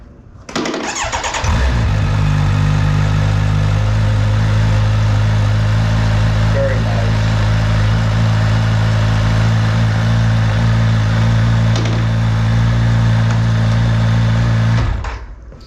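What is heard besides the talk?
Kawasaki Ninja 1100SX motorcycle engine starting and idling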